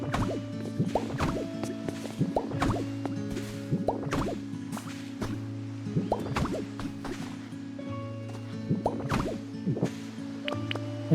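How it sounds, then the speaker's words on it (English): A water gun spraying dry grass in the Pokopia video game: repeated bright splashy drips and squirts over a steady tonal game music bed, close and moderately loud, recurring every second or so. "and then I just water gun it"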